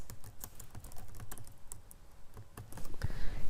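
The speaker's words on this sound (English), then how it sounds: "this time I typed in Merry Christmas" Someone types on a computer keyboard in a quick, irregular run of close, crisp key clicks with brief pauses, heard alone.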